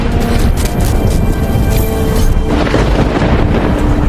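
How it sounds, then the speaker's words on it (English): Thunder from a storm in a Star Trek episode, a loud continuous rumbling roar with crackling bursts, dense and close throughout. "Storm is moving faster than I thought."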